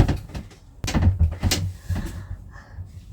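A wind-blown garden shed door is pushed shut with a few knocking, rattling thuds and a sharp bang partway through, followed by quieter creaks and clicks of the latch.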